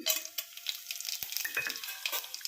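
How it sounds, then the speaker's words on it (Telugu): Tempering sizzles in hot oil for gongura dal, a soft steady frying crackle with a few stirring scrapes, close and moderate in level, no talking. "తాలింపు అయితే పెట్టుకున్నాం ఆయిల్ కాగింది"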